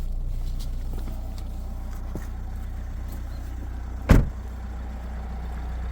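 Car door of a Nissan Qashqai J11 with 1.6 dCi engine shutting once with a sharp thud midway, over quiet ambient noise and faint shuffling steps as someone gets out; no talk.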